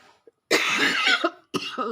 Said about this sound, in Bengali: দেখেছো আমার কি কাশি হয়েছে